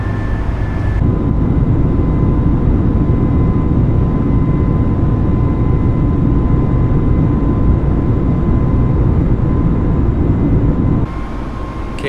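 An Airbus A320 airliner climbing after takeoff in Microsoft Flight Simulator, with a loud, steady jet engine roar and rumble that holds throughout before easing slightly at the very end.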